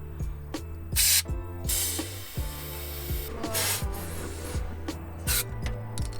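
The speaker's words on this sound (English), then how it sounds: "I'm just gonna spray this all down." Several sharp bursts of aerosol lithium grease spraying onto Mazda Miata window tracks, each a second or so long, separated by scraping and rubbing sounds with no talking.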